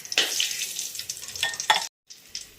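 Cinnamon pieces crackle and sizzle in hot oil in a pan for Kerala-style fish molee, a close, steady busy frying hiss with a brief stir, a short silent gap, then the sizzle resumes.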